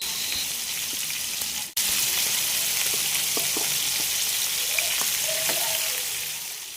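Chicken pieces frying in a pan for a homemade dum biryani, a loud continuous close sizzle with a brief sharp knock early on and scattered light pops and stirring clicks.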